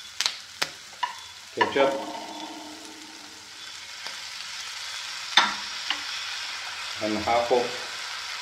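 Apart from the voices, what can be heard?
squid frying and sizzling in a pan with tomato and chili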